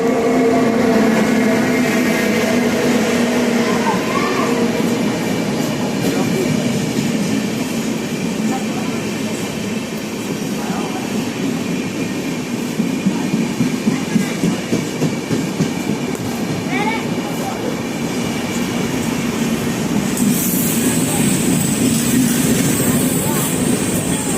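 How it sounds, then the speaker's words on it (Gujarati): A train rumbles in and rolls past with a loud, sustained clatter of wheels on rails that swells and fades. "આ ટ્રેન આવી ગઈ, આમાં જશે."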